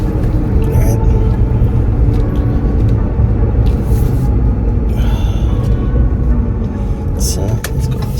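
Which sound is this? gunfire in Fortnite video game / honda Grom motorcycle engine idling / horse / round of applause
honda Grom motorcycle engine idling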